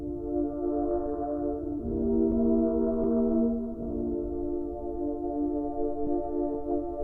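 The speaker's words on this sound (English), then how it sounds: "It's a really cool sound, and I created it using a few different synths." Layered synth chord built from several synths in FL Studio for a lo-fi style beat, a warm sustained tone that swells and holds steadily with no voices.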